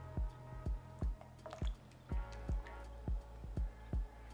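Chicken stock concentrate being stirred into ramen soup in a pot, giving a steady run of about ten soft wet taps and squishy clinks at a regular pace, close and fairly quiet, with no talking.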